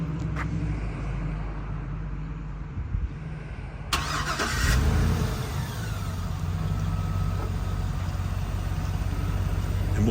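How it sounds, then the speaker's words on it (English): A 2008 Hummer H2 SUT engine cranks by remote start and catches after a few quiet seconds, then settles into a steady, low idle that continues to the end. "Let me use the remote start to start it so you can hear it."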